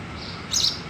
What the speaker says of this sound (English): You can even listen to some unknown bird chirping, twittering from somewhere inside.